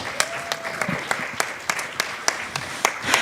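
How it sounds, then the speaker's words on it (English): Applause from an audience at a cultural mashup event pairing India and Egypt, a steady wash of clapping with distinct sharp claps standing out at regular intervals, fairly loud and close with no voices over it. "So a big round of applause for them."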